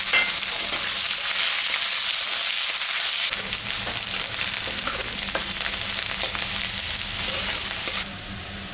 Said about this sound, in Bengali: পেঁয়াজ রসুন ভাজা ভাজা হয়ে গেছে